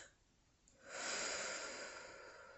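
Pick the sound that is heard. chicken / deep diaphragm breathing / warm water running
deep diaphragm breathing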